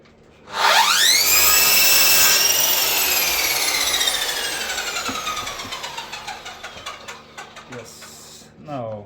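A power tool trims the rounded, routed corners of a handmade wooden organizer box for alphabet letters. It spins up sharply and whines loudly for a few seconds, then its pitch sinks as it winds down, with rubbing and clicking toward the end.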